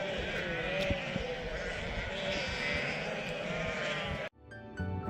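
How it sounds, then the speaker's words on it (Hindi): A flock of sheep in a mountain meadow bleats repeatedly, overlapping calls at moderate distance over steady outdoor noise and faint voices, then the sound cuts off abruptly. "इस मेडो में हर तरफ से भेड़ हमारी तरफ भागने लगे।"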